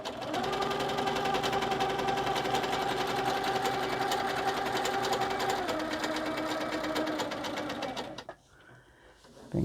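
Handy Quilter Sweet 16 sewing machine stitching, a loud, steady motor hum with rapid needle rhythm running close and continuous, its pitch dropping slightly before cutting off abruptly.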